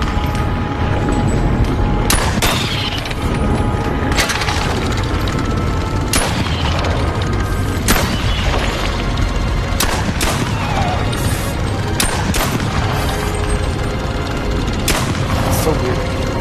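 In the Bonelab game, guns fire in sharp, loud, close shots spaced roughly one to two seconds apart across the stretch, with an occasional quicker pair, under intermittent talk.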